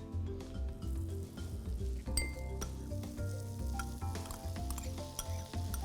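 Corn hits melted butter in a hot pan and sizzles steadily, a close continuous frying hiss with a few clinks and stirring sounds and no voices.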